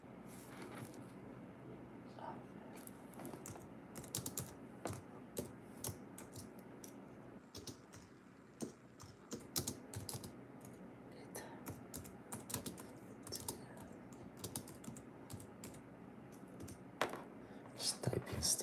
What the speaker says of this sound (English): Just typing stuff in.